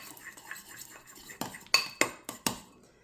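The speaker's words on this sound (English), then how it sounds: "Mix it up with a big spoon until it's nicely blended." A large spoon works softened, room-temperature cream cheese and butter in a bowl, giving several sharp clinks and scrapes against the bowl in a quick cluster near the end, with softer stirring before.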